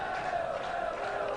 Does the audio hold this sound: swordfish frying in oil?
no